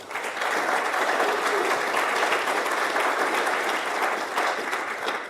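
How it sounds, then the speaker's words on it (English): Audience at a performing arts center applauding, a dense continuous round of clapping held at an even, loud level from start to finish with no voices over it. "if everyone could give a round of applause for John, Jared, Ava, and the whole team her"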